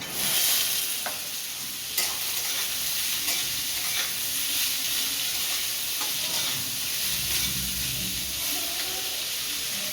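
Finely chopped ash gourd hits hot oil in a pan over lightly browned ingredients, giving a continuous bright sizzle and hiss with occasional stirring scrapes, close and steady throughout.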